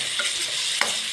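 Tomatoes, onions and garlic sautéing in a pan for okra pinakbet with shrimp paste, a steady broad sizzle with one brief stir scrape near the end, heard alone without talk.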